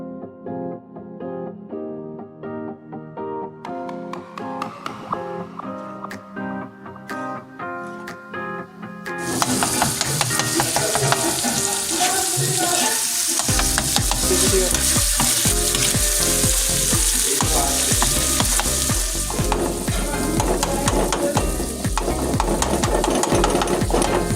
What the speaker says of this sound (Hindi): और अब इस कीमे को कट करते हुए खूब अच्छी तरह से हम फ्राई करेंगे